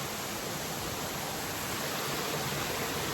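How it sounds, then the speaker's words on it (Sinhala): Visari Ella waterfall near Badulla, Sri Lanka, running with low water, gives a steady, even rushing roar that fills the whole stretch without a break. "මේ පැත්තට මේ දවස් ටිකේ බහලා නැහැ නිසා ඇල්ල වතුර ගොඩක් අඩුයි."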